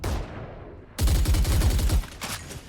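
Rapid gunfire in the shooter game Valorant during a Challengers NA grand final, with a loud, dense burst of automatic shots lasting about a second and softer shots trailing after it, no voices.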